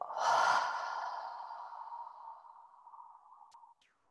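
One long, audible exhale during a guided breathing exercise, starting strong and tapering off slowly over several seconds, close and alone.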